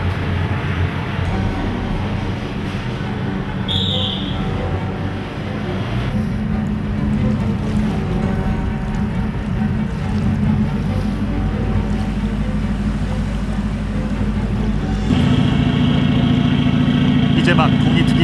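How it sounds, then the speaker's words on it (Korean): Diesel engines of amphibious assault vehicles roar at sea in a steady, heavy, continuous drone that swells louder toward the end, with no pauses. "어두운 바다에는 디젤 엔진의 굉음만이 들릴 뿐이다"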